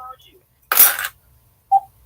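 A phone dialing tone sounds during a livestream call, one short tonal burst following a louder noisy rush, with faint background hum.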